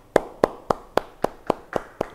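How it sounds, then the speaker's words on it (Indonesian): Crisp hand claps at a church Bible study land in a steady, evenly spaced rhythm, eight of them in about two seconds. They are clear and fairly close, with no voices. "beri tepuk tangan bagi Tuhan."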